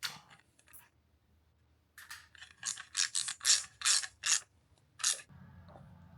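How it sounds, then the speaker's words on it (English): A 10mm socket ratchet snugs up accessory bracket bolts on a Land Rover Discovery 2 with an LS engine swap, giving a close run of quick ratcheting clicks in bursts, then a low rumble at the end, with no talking. "And now snug them up reasonably with a 10mm socket."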